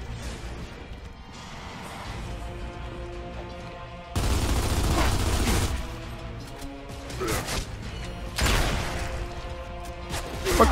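Bursts of gunfire in the Gears of War 2 video game, heavy volleys breaking out over game background, with a loud stretch midway and another burst near the end.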